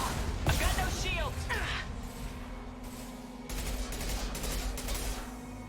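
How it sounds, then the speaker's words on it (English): Weapon fire from the Mass Effect 2 video game: an impact shot cracking out amid a dense, rumbling fusillade of gunfire and crashes, with a person's voice speaking over the steady game noise. "Firing an impact shot!"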